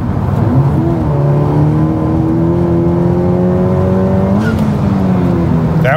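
Honda Civic Type R with a Hondata fuel system accelerating hard from inside the car, engine note climbing steadily through a gear, a quick shift, then rising again, loud and continuous.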